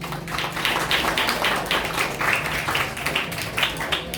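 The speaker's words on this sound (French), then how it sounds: "Je vous demande encore une fois d'applaudir nos lecteurs." An audience applauds student readers at a bilingual school event with dense, sustained clapping that stays steady for several seconds, filling the room.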